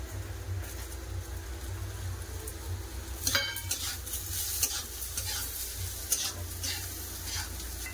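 Sliced onions sizzle in a pan of oil after fish frying and get stirred, with a quiet, continuous crackle. Occasional metallic scrapes and clinks of a spatula against the pan break through.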